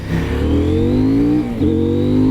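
Twin-cylinder engine of a 2023 CFMOTO Ibex 800T motorcycle revving up, its tone climbing, briefly dropping, then rising again, close and loud.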